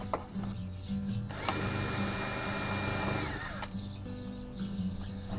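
A drill bores a hole in a part for a fishing rod guide wrapping machine: one sustained, loud whirring run of about two seconds, framed by quieter workshop handling noises.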